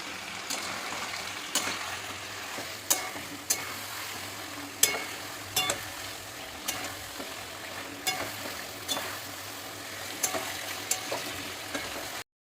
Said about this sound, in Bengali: আদা রসুন আর কাঁচা লঙ্কা পেস্টটা দিয়ে দিচ্ছি দিয়ে আবার ভালোভাবে কষিয়ে নেব